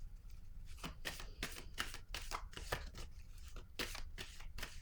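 Tarot cards are handled and laid down on a reading table in a series of quick, crisp papery slaps and shuffles, close and fairly loud, with no talk over them.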